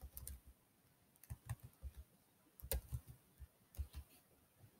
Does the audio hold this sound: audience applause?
no